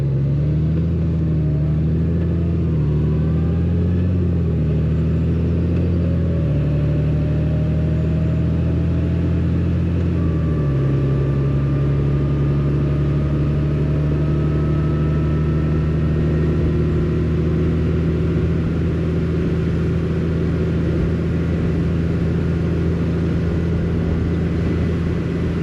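Motorcycle engine droning steadily and loudly on a road, its pitch rising and shifting as the rider accelerates, with constant wind rush throughout.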